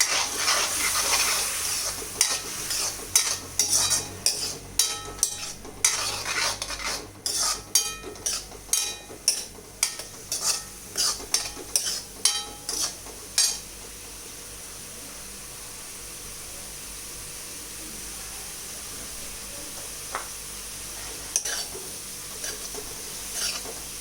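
A spoon scrapes and knocks rhythmically in a pan while sauce with soya sauce and vinegar is mixed, a string of sharp strokes over a soft sizzle, which then settles into a steady low hiss.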